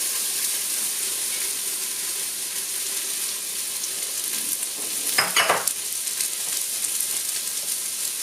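Onions cook in melted butter with a soft, continuous sizzle, broken midway by a short burst of louder scraping or stirring.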